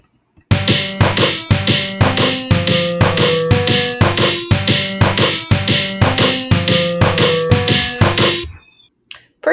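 A Mario Paint music composer melody with big jumps between notes plays as a steady run of about sixteen evenly spaced, bright, plucky tones. The notes are loud and close, then the tune stops and leaves a brief silence.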